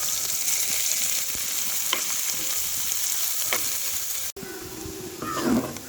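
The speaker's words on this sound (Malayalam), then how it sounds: "ഈ മീൻ വറുത്ത് കോരി എണ്ണയിലേക്ക് തന്നെ നമുക്ക് ഒരു സവാള അരിഞ്ഞത് പൊടിപ്പൊടിയായി അരിഞ്ഞത് ചേർത്ത്" Finely chopped onion sizzles in hot oil left over from frying anchovies for pickle, a steady bright crackling hiss, close and continuous, with a brief stir or utensil clatter near the end.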